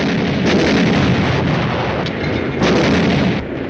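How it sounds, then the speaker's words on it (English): Artillery fire in a 1950s tank war film: dense, continuous booming and rumbling blasts, loud and close, with heavier bursts swelling at regular intervals and no speech. "The artillery zeroed in on us."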